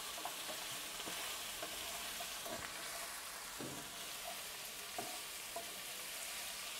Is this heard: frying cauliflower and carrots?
yes